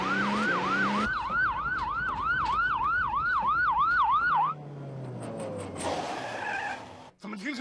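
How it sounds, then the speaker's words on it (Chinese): A police car siren winds up in a fast wailing yelp, loud and near for several seconds, then gives way to tire screeches and traffic noise. "你坐好，拉开警笛，抓贼去"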